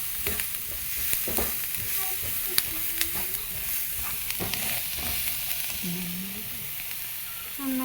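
Green chillies and masala sizzle in a pan while a spoon stirs them, giving a steady frying hiss broken by repeated scraping strokes, close and moderately loud, with no talking.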